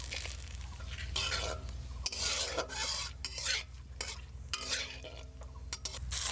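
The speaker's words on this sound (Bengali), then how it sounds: "ফোড়নের জন্য গোটা কয়েকটা জিরা এখন দিয়ে দেবো তেজপাতা শুকনো মরিচ আর দারচিনি" Whole cumin, bay leaf, dried chili and cinnamon fry in hot oil as tempering. The spices sizzle steadily while a spoon stirs and scrapes the pan in quick bursts.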